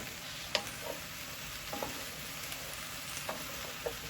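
Brussels sprouts with bacon and raisins are stirred in a hot pan, a soft steady sizzle with several light scraping clicks of the utensil against the pan, no talk.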